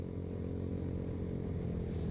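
Yamaha Mio Sporty motorcycle fitted with a VND aftermarket exhaust, idling close by with a steady, deep, bassy drone that holds even throughout, with no talk over it.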